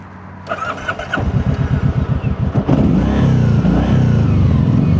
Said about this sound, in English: let's hear the exhaust one more time